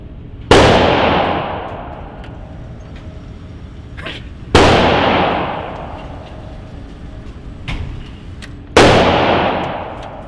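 Three loud pistol shots at a shooting range, evenly spaced about four seconds apart, each a sharp crack with a long echoing decay, with faint handling clicks between them.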